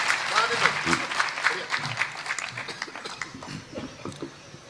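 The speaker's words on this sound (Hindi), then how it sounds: "जोरदार तालियों के साथ" Audience applause at a Hindi kavi sammelan (poetry recital) in Mandideep, a dense patter of clapping that slowly thins out over several seconds, with some crowd murmur mixed in.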